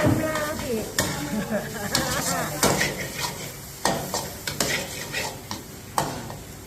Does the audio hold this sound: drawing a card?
no